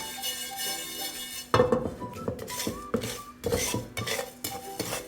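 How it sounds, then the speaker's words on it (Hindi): Spoon scraping and clinking against a pan as grains dry-roast over low heat, a quiet stretch followed by repeated close stirring strokes and metallic taps with a faint sizzle. "चम्मच कंटिन्यू लाते रहना ताकि सारे दाने जो एक जैसे ही रोस्ट हो जाएं।"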